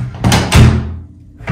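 A hotel room door at a Holiday Inn Express in London's Earls Court swings and thuds shut twice in quick succession, close and fairly loud, with a short quiet gap before a softer rattle at the end.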